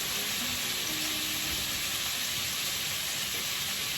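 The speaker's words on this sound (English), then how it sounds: "That's just back there simmering. Simmering away." Cassoulet simmering in a pot, a steady, even, hissing sizzle that holds unchanged throughout with no other sounds.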